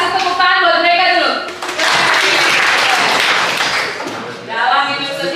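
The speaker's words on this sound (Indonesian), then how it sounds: "Kasih tepuk tangan buat mereka dulu." Classroom audience in a sociology lesson giving a brief burst of applause, loud and close, sandwiched between a speaker's voice talking before and after it.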